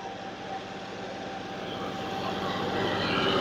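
A John Deere 5305 tractor engine labours under load at 2000 rpm in a field pulling competition, a loud, steady droning roar with a faint hum that grows slightly louder throughout.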